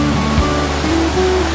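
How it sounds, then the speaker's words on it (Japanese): Water rushing steadily over rocks in the upper stream above the Otome waterfall, an artificially built falls in the Yokoya gorge, a close, constant broadband wash with no voices. "乙女の滝ってね、人工的に作られた滝なんだけど、それの上流部はこんな感じになっている。"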